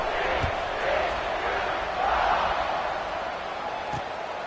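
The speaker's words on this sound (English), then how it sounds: "this crowd is buzzing after that last score" A football stadium crowd at a college game hums with a broad, steady roar after a score, swelling slightly at moments while an announcer talks over it.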